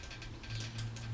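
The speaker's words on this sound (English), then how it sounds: "use that to tighten the screw" A Phillips screwdriver tightens a screw on a bicycle gear shifter during a tire repair, giving a quiet, brief ratcheting click up close.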